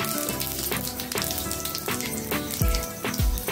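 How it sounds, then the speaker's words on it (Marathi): Mustard seeds and cumin crackle and sizzle in hot oil in a wok, a dense steady frying hiss with scattered sharp pops and a couple of louder bursts near the end, close and with no talking. "मोहरी छान तडतडली म्हणजे थोडेसे जिरे घालायचे"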